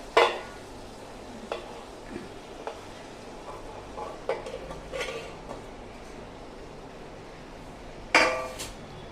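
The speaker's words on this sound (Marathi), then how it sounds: "हा जो पुलाव आहे हा आपण मस्तपैकी हलवून घेऊया" A ladle stirs vegetable pulao, cooked rice mixed with vegetables, in a large heavy pot. Scrapes and metal clinks come at intervals, with a louder scrape near the end.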